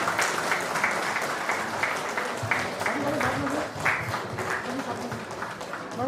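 An audience at a Birsa Munda 150th birth anniversary ceremony claps steadily throughout, a dense sustained applause with a voice faintly underneath.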